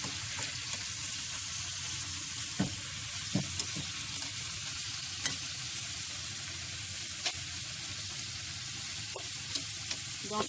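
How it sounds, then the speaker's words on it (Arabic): Red peppers frying in a pan with a little salt, giving a soft, steady sizzle with occasional clicks of stirring, quiet and close with no talking. "كناخذوا الفلفله الحمراء اللي كنقليوها مزيان حتى تدبر"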